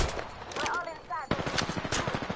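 Video game gunfire erupts as rapid automatic bursts of close, loud shots, following a brief stretch of voices.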